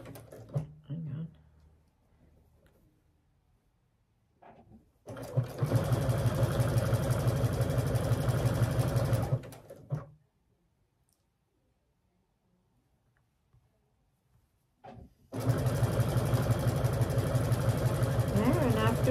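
Domestic sewing machine stitching the front of a jacket to the back, running in two steady, loud whirring bursts of several seconds each, with quiet handling noise and a voice between them.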